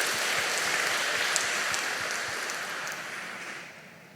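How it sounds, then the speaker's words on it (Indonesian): A large audience claps for a bishop in a hall. The applause is dense and sustained, moderately distant, and fades slightly toward the end. "Kita berikan tepuk tangan yang luar biasa untuk dia."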